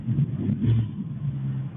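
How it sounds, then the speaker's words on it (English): A stolen Ram ute's engine gives a quick, loud, low rumbling rev close by, rising briefly then settling into a steady idle growl. "A quick rev of the engine"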